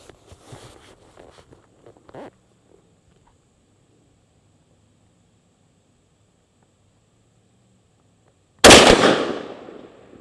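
A TriStar Viper G2 shotgun firing a Remington rifled .410 slug, one sharp loud close blast with a decaying tail after quiet handling noises and a long silent pause.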